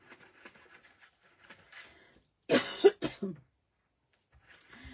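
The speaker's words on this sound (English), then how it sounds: "how to get rid of a tickly cough?" A short burst of dry, tickly coughing with a throat clear, close and fairly quiet, preceded and followed by soft rustling.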